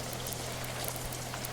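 A heavy rain downpour in a murder mystery audio drama, a dense, steady hiss of pouring water with scattered drops, even and fairly faint throughout with no voices.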